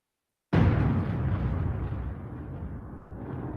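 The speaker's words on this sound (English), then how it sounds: "The thunder." Rolling thunder in a storm, a single loud broadband rumble that starts abruptly and sustains as it slowly fades, heard alone without voices.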